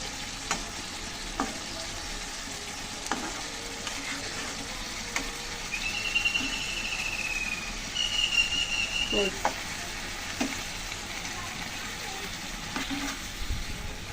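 Hilsa fish pieces frying in oil for mustard hilsa curry, turned with a steel spatula: a continuous close sizzle with occasional metallic taps and scrapes, faint background voices in places.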